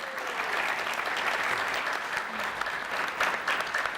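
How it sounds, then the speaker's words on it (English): An audience at a trauma-themed panel event gives the panelists a steady round of applause, a dense wash of clapping that fills the whole stretch at an even level, with faint voices mixed in. "So now you can applaud for them"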